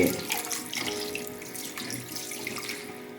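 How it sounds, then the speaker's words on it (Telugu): Water pours steadily into a clay cooking pot, splashing and gurgling at close range, with no voices. "ఒక గ్లాసుకి నాలుగు గ్లాసులు నీళ్లు పోసి"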